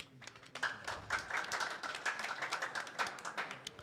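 Audience clapping at a press event marking the end of a doctors' strike in Kenya, a steady patter of scattered hand claps that holds for several seconds in a large room.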